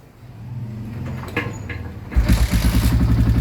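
A Yamaha Sniper 150 motorcycle cranks with a rising whir, then catches at about two seconds and settles into a close, loud, rhythmic idle.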